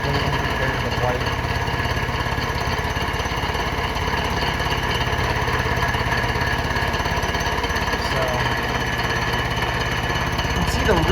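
A machine cuts the deck of a Honda K-series engine block, producing a loud, steady grinding drone that runs unbroken from start to finish.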